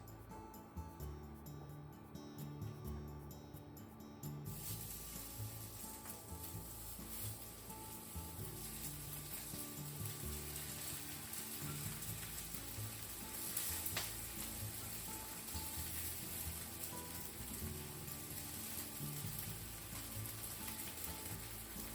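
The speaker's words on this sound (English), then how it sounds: "Let's put the onigiri into the frying pan with wet fingers." Onigiri rice balls fry steadily in a pan with a continuous soft sizzle and crackle, quiet and unbroken for over twenty seconds with no talking.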